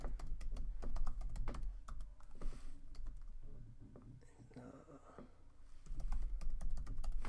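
Quick, uneven clicks of a computer keyboard as a first name and email address are typed in, close and fairly soft, in bursts with short pauses, with some faint breathy background noise.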